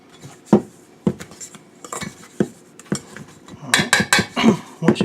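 Dry cornbread ingredients are stirred in a bowl, giving a run of close clinks and scrapes of utensil against the dish, irregular and loudest toward the end, with no talking.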